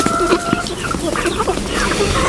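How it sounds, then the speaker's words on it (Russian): Young chickens on a farm cluck and chirp in scattered, overlapping calls over a steady outdoor background, close and fairly loud, with a person speaking faintly. "Посмотрите, цыплята как выросли."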